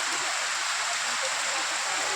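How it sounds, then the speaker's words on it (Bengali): Steady, dense hiss of heavy rain pouring down without break, loud and close, with no voices standing out. "অনেক জোরে বৃষ্টি হচ্ছে, পুরো দেখো, তোমাদেরকে দেখাই। এই দেখো প্রচুর বৃষ্টি হচ্ছে।"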